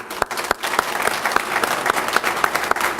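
Applause from a police awards luncheon audience in Dearborn, honoring officers and their spouses, rolling steadily with scattered louder claps standing out over the room's crowd noise.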